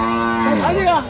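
A calf at a busy cattle market moos once, a loud close drawn-out bellow rising and falling, with market chatter faint beneath.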